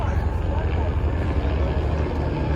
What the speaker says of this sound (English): A lot of choppers around